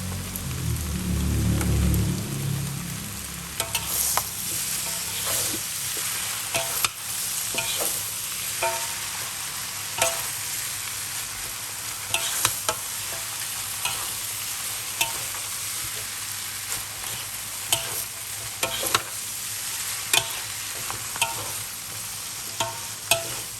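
Glass noodles with egg stir-fried in a large wok, a steady sizzle broken by repeated scraping and clattering strokes of the spatula, close and continuous, with no voices.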